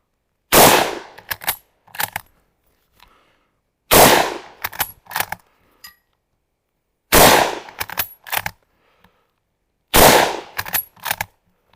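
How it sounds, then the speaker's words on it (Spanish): Four loud shots from a Mauser-Vergueiro 1904/39 bolt-action rifle fired at regular intervals, each followed by a sharp metallic clatter of the bolt being cycled. "Disparo el último peine de cartuchos que tenemos"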